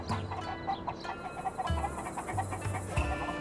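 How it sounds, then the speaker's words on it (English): In Tears of the Kingdom's Ring Ruin Village, chickens give repeated short clucks, moderately close, layered over soft game music and ambience with no talking. "Where are the chickens going?"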